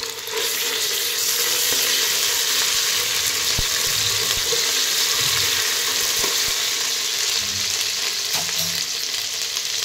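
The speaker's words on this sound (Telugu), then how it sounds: "సో ఇందులో నేను అల్లం వెల్లుల్లి పేస్ట్ వేస్తున్నాను." Ginger garlic paste frying with golden onions in a pan, a steady loud sizzle with occasional spoon taps and stirring scrapes.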